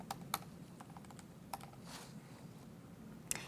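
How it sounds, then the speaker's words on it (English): Keys on a computer keyboard click softly in an uneven sequence of scattered taps with a few sharper presses, recorded close but quiet against a low background hum. "Make sure you press enter and then write pause."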